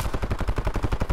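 Rapid automatic gunfire from enemies in an extraction shooter video game, a dense burst of about a dozen evenly spaced shots that is loud and sustained across the whole moment.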